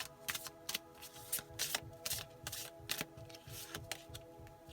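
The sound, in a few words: shuffling tarot cards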